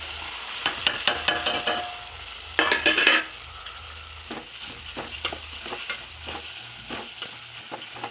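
Moong dal fritters (pesara garelu) with green chillies frying in hot oil, a steady close sizzle broken by sharp spatula scrapes and clinks and a louder burst of spitting oil midway, with no voices.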